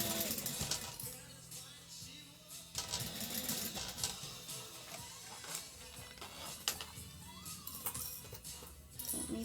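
A sewing machine runs a basting stitch through fabric for dumpling pouches, a faint, busy mechanical whirr and clatter with uneven bursts of stitching throughout.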